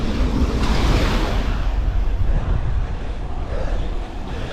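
Strong northeast headwind roars across the microphone of a cyclist riding in rain through Leeds on a climb, a loud, steady broadband rush with low buffeting that barely lets up.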